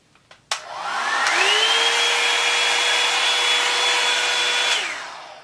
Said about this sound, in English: I'm just gonna get my blow dryer and I'm actually going to use this on high heat.